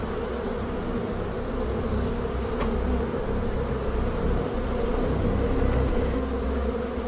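Dense, steady buzzing of a large mass of bees clustered at the bottom of a beehive, a close, continuous drone with no talking.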